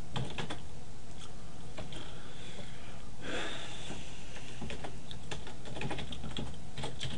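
Computer keyboard typing while entering code into a text editor, a close run of quick plastic key clicks in uneven bursts over a constant background hiss, with a short breathy noise midway.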